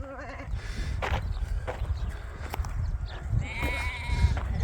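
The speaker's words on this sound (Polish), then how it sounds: "A tam kozy, tutaj też barany." Sheep and goats in a canyon in Jordan bleat several times close by, with wavering calls at the start and near the end over shuffling and outdoor background noise.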